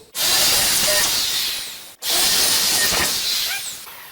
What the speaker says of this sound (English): now I'm going to pre-drill the rest of my holes